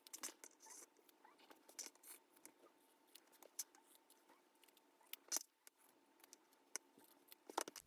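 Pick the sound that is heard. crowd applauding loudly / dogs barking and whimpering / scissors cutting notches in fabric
scissors cutting notches in fabric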